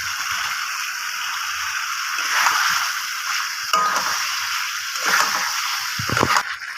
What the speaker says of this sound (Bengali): এবার আমি ভেজে রাখা আলুগুলো দিয়ে কিছুক্ষণ কষিয়ে নেব।